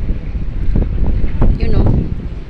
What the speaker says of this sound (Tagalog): Sobrang hangin guys, grabe.